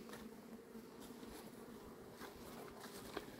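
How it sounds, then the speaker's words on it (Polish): Honeybees buzz steadily around a cluster of hives in an apiary, many returning laden with pollen; a continuous, moderately quiet insect drone fills the scene, with no talking. "Tu dużo pszczół wraca z pyłkiem."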